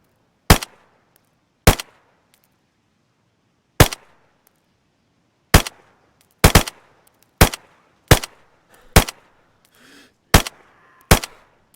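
Full-auto submachine gun fire from .380 rounds in the video game DayZ: about ten short, loud, sharp bursts separated by silent gaps, close and clear with no talking.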